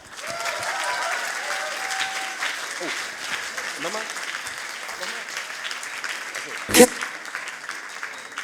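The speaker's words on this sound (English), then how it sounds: "So please, with a warm welcome and applause, welcome Tamana Manju Aramat with her presentation, Vibral Spectroscopy, Watching Molecules Dance." Science slam crowd at Berlin Science Week gives warm applause welcoming the next presenter. Steady, fairly dense clapping runs throughout, with a voice over it at the start and one loud close thump near the end.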